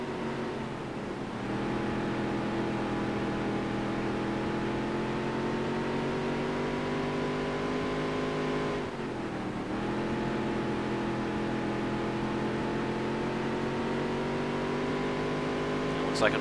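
Race car engines in the NASCAR Dirt to Daytona video game drone steadily at high revs for the full stretch, with a brief dip and recovery midway, loud and continuous.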